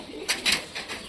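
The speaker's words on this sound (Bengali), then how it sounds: "আমাদের পায়রাগুলোকে বাইরে ছাড়তে হবে।" Pigeons released from a room through an opened door give a few quick, soft bursts of wing flapping, faint and brief, with no talking.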